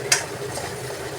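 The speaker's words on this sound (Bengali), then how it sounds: "এবার এই মশলাগুলো দিয়ে অল্প একটু জল দিচ্ছি, দিয়ে ভালো করে একবার কষিয়ে নেব।" Spices with a splash of water sauté in a pan, a brief scrape of stirring followed by a soft, low sizzle close by.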